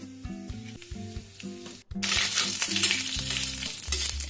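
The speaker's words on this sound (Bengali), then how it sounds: "গোটা জিরে দিয়ে দিলাম।" Whole cumin seeds sizzle in hot ghee in a heated pan with dried red chilli and bay leaf, a steady loud crackling fry that jumps up abruptly partway through and holds, with low clatter beneath.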